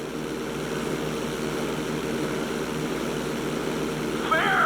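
Steady propeller-plane engine drone from GTA 5 flight school, a continuous mid-level hum filling the whole stretch, with a brief rising whine near the end.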